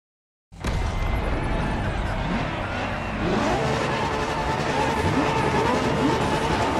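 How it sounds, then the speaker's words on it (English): A LaFerrari hybrid supercar engine in a racing video game starts abruptly and roars loudly and continuously, holding a dense high-revving note that rises in intensity. "La Ferrari is the first Ferrari we have with an hybrid engine."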